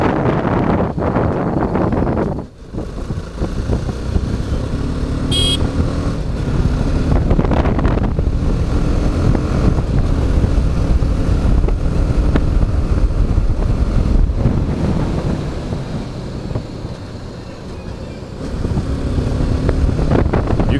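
A BMW G310GS motorcycle travels along a road at speed, with a steady engine drone buried under heavy rushing wind noise, loud and continuous throughout.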